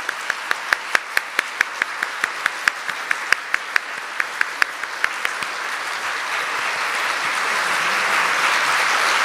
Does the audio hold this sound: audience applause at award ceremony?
yes